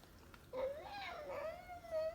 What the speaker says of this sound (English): Yeah, that's a kitty cat